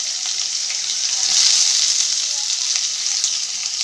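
Curry leaves and onion drop into hot oil, setting off a loud, continuous hissing sizzle that holds steady from start to finish, close up and with no voices.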